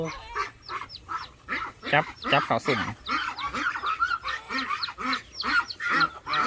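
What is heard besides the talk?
ducks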